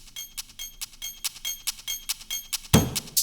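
Crisp, clicky percussion loop with evenly spaced metallic ticks layered behind a drum beat, a deeper hit landing near the end.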